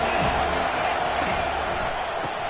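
Stadium crowd at a football game, a steady loud roar of many voices filling the whole clip without a break.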